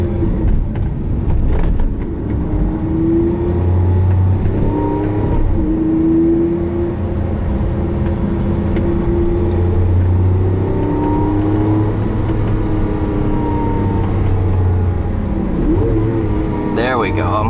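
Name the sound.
Lamborghini Aventador engine revving, rev matching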